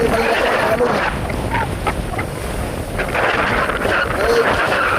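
Strong north wind roars and buffets the microphone over open sea in the West Philippine Sea, with big waves churning and a voice speaking underneath.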